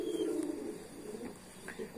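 A high-flying pigeon coos softly, a brief low murmur that is faint and close against quiet background noise.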